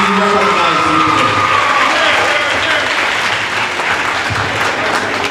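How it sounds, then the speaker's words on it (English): A school audience at a national World Food Day ceremony at Christiana High School breaks into loud, sustained applause that fills the hall, with voices talking over the clapping throughout. "give yourselves, your principal, your school, a resounding round of applause"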